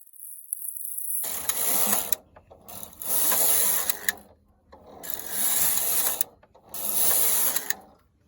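A knitting machine carriage is pushed back and forth across the needle bed, giving four rhythmic passes of loud clattering, whirring mechanical noise separated by brief pauses.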